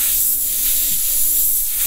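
An airbrush sprays paint for graffiti-style art indoors, giving a close, constant airy hiss that holds at an even level throughout, with a faint low hum beneath.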